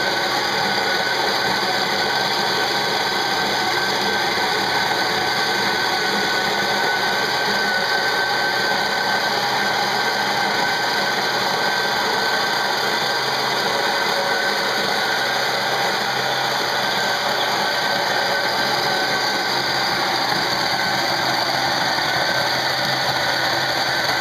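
A Gaggia coffee grinder grinds coffee beans in one continuous, loud, steady mechanical whine and rattle lasting over twenty seconds without a break.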